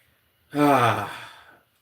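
A single sharp sneeze-like burst, close and fairly loud, starting abruptly and trailing off with a breathy tail in an otherwise quiet indoor streaming setting.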